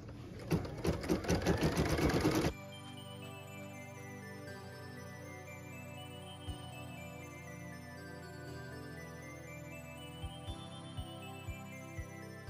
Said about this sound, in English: we're gonna stitch first the eye and then the cute little wing detail dots